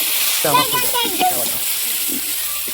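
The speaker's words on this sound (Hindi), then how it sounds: "जीरा ला प्याज अब डाल रही है" Cumin and onion drop into hot oil and sizzle with a steady broad hiss, close and continuous, while someone speaks over it.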